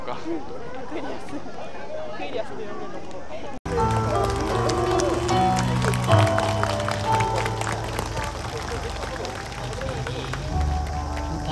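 Applause and crowd chatter break out suddenly at an outdoor summer festival of a Japanese disability welfare facility, following a brief quieter stretch with talk; clapping and hubbub continue, fairly loud, with voices mixed in.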